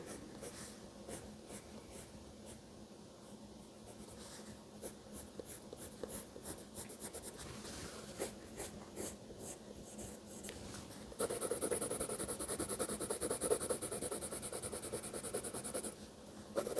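Pencil strokes scratch and rub across paper in a quiet drawing session, a soft continuous scraping texture that grows a little louder and denser toward the end, with no talking.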